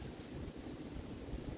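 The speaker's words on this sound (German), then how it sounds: "einen windigen guten Morgen" Morning wind gusts beside a small river, buffeting the microphone with a steady low roar and rushing noise that stays even throughout, with no one speaking.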